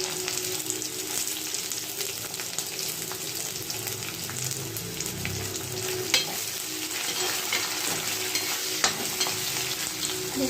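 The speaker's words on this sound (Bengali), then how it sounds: "এবার পেঁয়াজটাকে একটু সোনালি কালার করে ভেজে নেব।" Chopped onion tossed onto garlic already browning in oil hisses in a continuous close sizzle, with a few light clicks of a stirring spoon throughout and nobody speaking.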